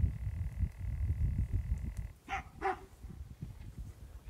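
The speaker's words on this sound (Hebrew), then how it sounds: "מיד תשמעו קריאות אזהרה, נביחות של בבונים שנמצאים באזור." Baboons in an African wild setting give a couple of short, sharp barking warning calls midway, distinct against a rumbling low background, fairly near and moderately loud.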